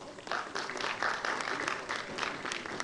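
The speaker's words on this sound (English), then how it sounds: "Please give a big round of applause." An audience applauds steadily to welcome guests to the dais at an educational foundation function, a dense, moderately loud wash of clapping lasting a few seconds with no talk over it.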